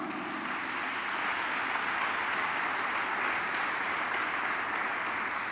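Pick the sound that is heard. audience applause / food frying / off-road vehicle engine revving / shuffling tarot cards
audience applause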